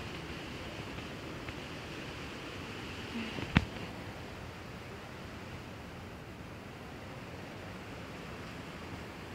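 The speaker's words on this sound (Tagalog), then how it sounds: "Naririnig niyo po ba ang tubig?" Flowing water from a waterfall along a rocky trail in Bulacan, a steady broadband rush that stays even and distant throughout, with one brief sharp tap near the middle.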